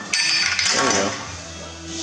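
A small metal engine part drops into a first-gen diesel's oil pan, landing with a bright metallic clink and a brief rattle that rings out close by.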